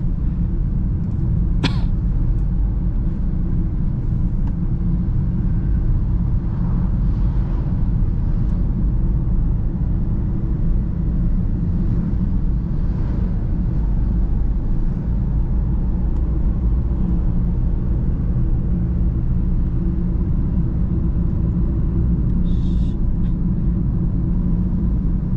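Car engine pulling uphill in low gear, second gear after third, on a drive toward Condro Murio in Kudus: a steady, loud, droning engine rumble with road noise, unbroken throughout, one brief sharp click early on.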